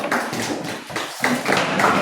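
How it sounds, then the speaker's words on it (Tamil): Classroom applause of many hands clapping in a steady, dense patter that swells and eases across the whole stretch, fairly close and with no talk over it. "சரி, கைத்தட்டல் கொடுங்க"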